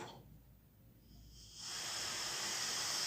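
A gas stove burner that won't light gives a steady, fairly loud hiss of escaping gas, starting quieter and swelling after about a second and a half, then holding constant with no flame catching.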